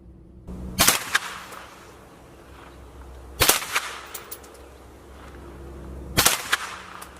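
Three sharp rifle shots fired at an outdoor shooting range, using a rifle fitted with a Dalbinowl Noctua R red dot optic, each a loud crack with a short echo, spaced a few seconds apart.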